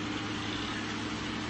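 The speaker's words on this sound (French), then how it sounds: "c'est là, c'est un bruit de tracteur." A tractor engine idles in Farming Simulator 2013, a steady, even droning hum with a constant low rumble and no variation, heard alone.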